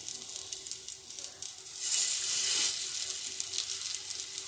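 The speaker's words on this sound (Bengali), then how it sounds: "এই যে বাকিগুলোও আবার ভেজে নিচ্ছে" Pieces frying in a pan with only a little oil give a soft, hissing sizzle that swells briefly midway, heard close and alone with no talking.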